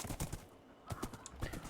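A horse in the Minecraft RLCraft modpack gives quick hoof clip-clops in short bursts along with brief whinny-like calls, fairly close and moderately loud, with no talking.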